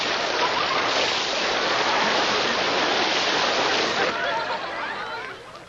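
Water dumped over someone on a TV comedy show, a loud, continuous rushing splash like a pouring torrent that keeps going for several seconds, then tapers off slightly near the end, with no clear speech over it.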